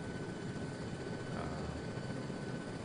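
A helicopter in a military shooter game thrums steadily in the background, a constant rotor and engine rumble at moderate level with no clear speech over it.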